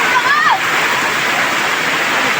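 Strong floodwater rushes hard through a flooded street where stalled motorbikes are being pushed. The roaring, splashing wash is loud and continuous, with a brief high whistle-like tone near the start and a voice faintly present.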